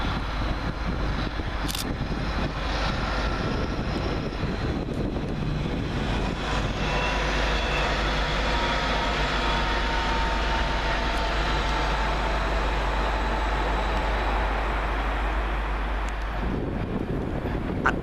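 Greater Anglia class 755 train at Peterborough station, a steady loud rumble and hum of the unit passing close by, heavy wind buffeting the microphone throughout, no voices.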